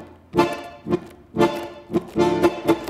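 A tango marcado in four, played alone on one instrument: firm, evenly spaced accented chords, one on each beat, give a steady marching pulse with a few lighter notes between the strong strikes.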